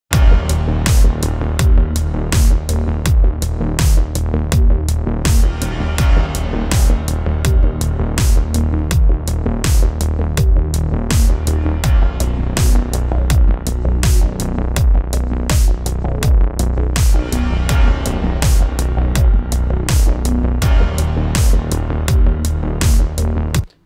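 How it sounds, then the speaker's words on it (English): Hi-hats with added reverb ambience in an ambient music mix in Logic Pro X, ticking in a steady rhythm over sustained pads and low tones, loud and continuous throughout. "adding some ambience to the sound of those hi-hats in the shape of"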